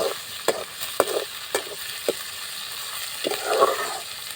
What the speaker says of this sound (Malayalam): ഇനി അതിൽ വെളുത്തുള്ളി ഇഞ്ചിയും അരിഞ്ഞത് ഞാൻ ഇട്ട് കൊടുക്കുന്നുണ്ട്. ഇനി അത് നമുക്ക് ഇളക്കി കൊടുക്കാം കേട്ടോ.